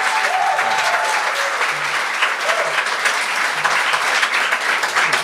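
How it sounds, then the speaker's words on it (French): Studio audience at a Quebec comedy gong show applauds a comedian on his second show, a dense steady wash of clapping lasting throughout, with a few faint voices underneath. "OK, on peut l'applaudir."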